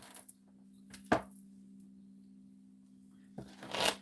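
Tarot cards being shuffled in a quiet room, with two short riffling bursts separated by silence over a steady low hum.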